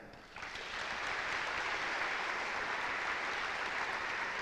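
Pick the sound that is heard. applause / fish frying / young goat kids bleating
applause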